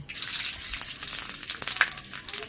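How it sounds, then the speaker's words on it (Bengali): Panch phoron spices crackle and sizzle as they hit hot oil, a dense, bright spitting hiss with scattered pops that rises and falls over a couple of seconds. No one speaks. "তেলটা গরম হয়ে গেছে, দেখতেই পাচ্ছেন। এবার আমি দিয়ে দেব 5 ফোড়ন"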